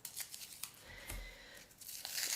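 Paper tape torn by hand into many small pieces, heard as a close series of quick, light ripping and crinkling sounds at an uneven pace, with no talking.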